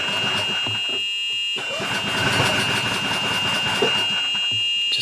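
Small gasoline engine, a Honda GX390 or Predator 420, on a golf cart conversion labors under throttle in reverse; a steady loud engine drone with a brief drop near one second, then a strained, uneven running sound with no talk.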